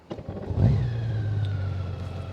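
A 2021 Honda Gold Wing DCT motorcycle, an 800-pound touring bike, with its engine humming steadily and close after a brief rev, a smooth mid-pitched drone with wind noise and no talk.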